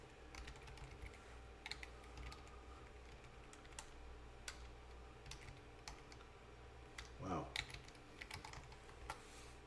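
Keys clatter on a computer keyboard in quick, irregular bursts of light clicks. The typing is faint and close against a low steady room hum, with one brief louder rustle partway through.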